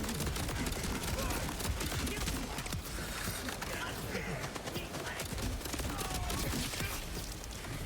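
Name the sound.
SMG gunfire in a video game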